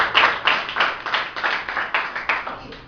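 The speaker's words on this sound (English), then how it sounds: "Clap your hands for him." Students in a classroom clap their hands together, a run of about a dozen sharp, rhythmic claps at a steady pace, fairly close and with no talk over them.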